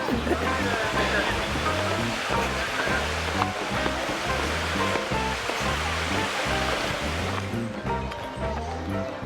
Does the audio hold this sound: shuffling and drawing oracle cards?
no